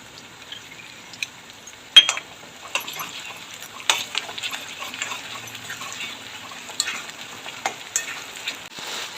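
Spice paste for paneer chilli sizzles and fries steadily in a pan, a continuous crackling hiss broken by occasional louder pops and spatters, close and with no voices.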